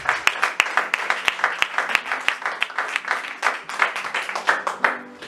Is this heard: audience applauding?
yes